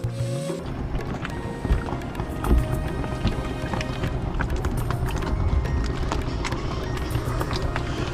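Boat ride at the Triveni Sangam, where the Solshi, Kandati and Koyna rivers meet in Maharashtra, with a steady engine drone and water wash running continuously and loudly throughout, no talking.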